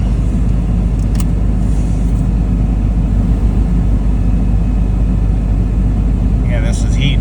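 A diesel truck engine warms up after a cold start from two weeks sitting in Alaska snow, a loud, steady, close low rumble that stays even throughout, with a few faint higher clicks toward the end.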